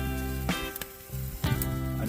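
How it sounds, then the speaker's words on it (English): A tomahawk steak sears over a fire, a soft sizzle running under steady tonal hum, broken by a few sharp clanks and bumps of meat or tools being moved. "So we just want to sear it a bit"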